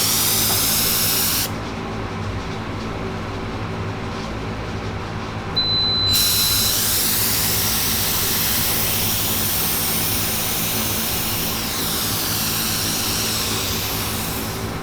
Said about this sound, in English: we've got all of the activator sprayed on it